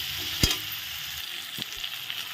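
Potatoes frying with turmeric and salt in oil, a steady sizzle with a couple of soft stirring bumps, close and even throughout.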